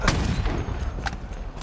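Sniper rifle shots ring out in a Halo esports grand final: a few sharp, punchy cracks spaced about a second apart over busy game noise and crowd ambience.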